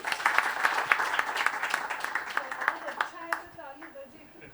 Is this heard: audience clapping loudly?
yes